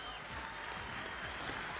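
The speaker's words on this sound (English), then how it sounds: "Round of applause again, ladies and gentlemen." An audience applauds at the Golden Shears world machine shearing final. The clapping is steady, dense and fairly faint, with no break in it.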